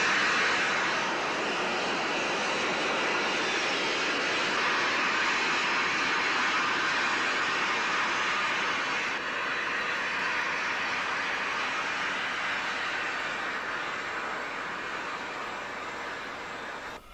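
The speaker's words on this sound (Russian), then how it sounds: "Включились двигатели третьей ступени." A steady, roaring rocket engine rumble with broad hiss continues unbroken as the third-stage engines fire, loud and close, fading slightly toward the end.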